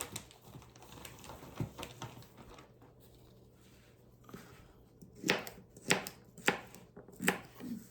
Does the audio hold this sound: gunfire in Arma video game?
no